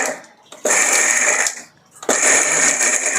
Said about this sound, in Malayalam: തേങ്ങയും എല്ലാം കൂടി ഇട്ട്